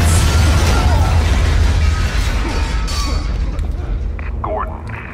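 A loud, rumbling explosion in Batman: The Telltale Series, with a dense, broad roar that slowly decays over several seconds while a voice speaks over the tail.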